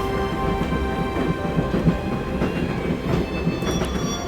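A moving train from the video game Broken Sword: Shadow of the Templars rumbles steadily with a rhythmic clickety-clack of wheels on rails, heard close and continuous with no talking.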